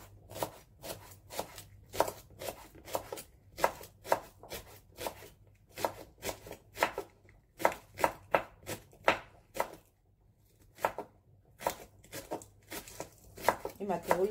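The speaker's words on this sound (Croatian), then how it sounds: "To imam još jedan ovaj mladi luk i njega ću da isečkam." Knife chopping spring onion on a cutting board, rapid bursts of crisp taps in uneven runs with brief pauses, close and fairly loud, no talking.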